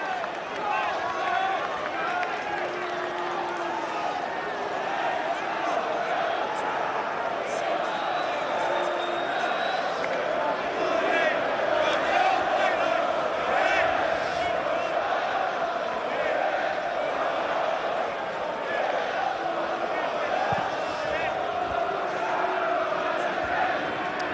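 Highbury football crowd at an Arsenal v Tottenham Premier League match, a dense continuous murmur and roar of tens of thousands of fans, steady throughout with a commentator talking over it.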